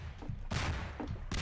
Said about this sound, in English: Are you just shooting those cannons?